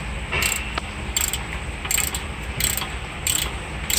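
A ratcheting wrench loosens a camber bolt on a Hyundai Genesis Coupe's suspension, giving four or five short bursts of rapid ratchet clicks at steady intervals. The sound is close and fairly loud, with no talking.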